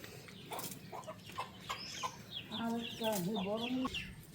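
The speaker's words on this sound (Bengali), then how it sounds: "এইটা হচ্ছে গিয়া মুরগির মা এই মুরগির এগুলা বাচ্চা সব" Hens clucking and chicks peeping nearby, with soft rhythmic clucks and high chirps mixed over a busy background of rustling and movement.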